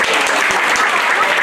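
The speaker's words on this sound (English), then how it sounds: "Let's give them a round of applause." Church audience applauding a children's performance, a loud, dense burst of many hands clapping close by, steady throughout with no talking.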